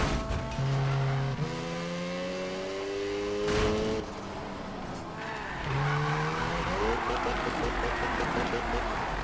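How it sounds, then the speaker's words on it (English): Car engine in Need for Speed 2015 (Xbox One) revving and shifting through gears while tires squeal as it drifts through a whole corner, with bursts of skidding noise and speech over the engine. "I actually drifted that whole corner"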